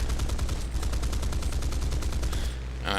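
Aircraft cannons on a British Typhoon fighter in War Thunder fire in a rapid, evenly spaced burst for about two and a half seconds, loud and close, then stop.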